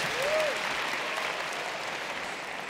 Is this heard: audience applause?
yes